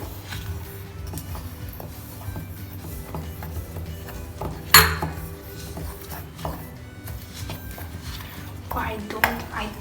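A spoon clinks and scrapes in a bowl as coconut sugar and cocoa powder are mixed with coconut oil for homemade chocolate, giving irregular close clatter with one sharp knock midway and a faint murmur in the background.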